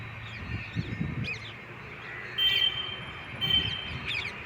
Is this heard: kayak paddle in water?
no